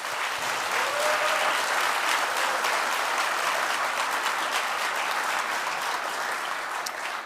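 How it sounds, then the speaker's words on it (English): A crowd at a city State of the City address gives elected officials a sustained, loud round of applause, dense and steady for the whole stretch with no speech over it. "join me in giving all of our elected officials a round of applause"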